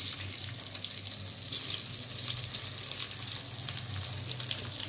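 Ghee-coated rice frying in a pan, a steady broad sizzle and hiss that runs unbroken throughout at moderate level.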